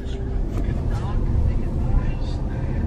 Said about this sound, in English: I'm actually driving in the car.